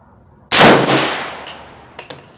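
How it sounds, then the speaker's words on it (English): Single sharp report from a free-floated Hi-Point 1095 10mm carbine fired outdoors at a 100-yard target, loud and close with a decaying tail, followed by a couple of fainter clicks. "I'll be taking 3 shots at 100 yards."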